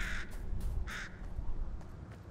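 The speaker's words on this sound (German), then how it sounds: "normaler Vogel." A bird caws in the Fortnite video game, two clear caws near the start and middle over a low, steady game backdrop.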